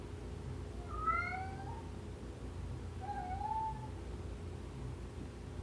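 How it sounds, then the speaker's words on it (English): Two drawn-out cat meows, the second longer and rising, heard fairly close over a low background hum, with no talking. "Clancy, please quit meowing."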